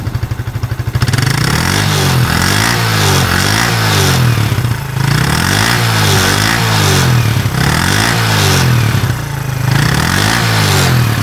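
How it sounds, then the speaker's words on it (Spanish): A Suzuki GN 125 motorcycle exhaust revs loudly and close, engine climbing and falling in repeated throttle blips over a steady rumbling idle. "este otro video es para oír el sonido del escape."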